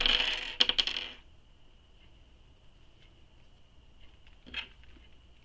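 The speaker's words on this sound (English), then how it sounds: "I'm going to clip it in place." A metal strap clip on a handmade leather mini messenger bag is fitted and snapped into place: a quick cluster of sharp metallic clinks and rattles, then a faint ringing tone with light ticks and one more brief clink, close and quiet.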